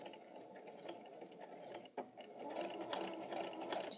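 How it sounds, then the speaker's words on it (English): A sewing machine backstitches through fabric at the end of a curved seam, running in a steady rapid mechanical whir with a brief pause partway through before resuming. "we are going to backstitch here"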